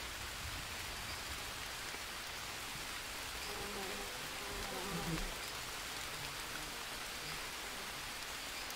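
Steady rain falling in the jungle survival game Green Hell, a soft continuous hiss of drops on foliage and ground, even and unbroken throughout with a slight swell midway.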